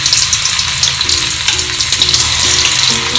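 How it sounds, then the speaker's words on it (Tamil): Raw plantain pieces fry in a pan of heated oil, making a loud, dense, continuous bubbling sizzle up close, with faint recurring tonal hums beneath and no speech. "எண்ணெய் காஞ்செடுத்து நம்ம வந்து வாழைக்காயை பொறிச்சிக்கலாம்"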